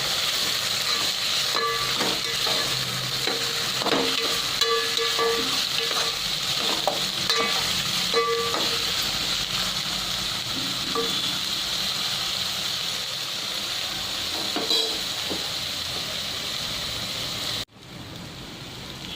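Soaked soya chunks frying in oil in a pan for veg pulao: a continuous close hiss and sizzle with repeated scraping and stirring clatter, steady and fairly loud until it cuts off abruptly near the end.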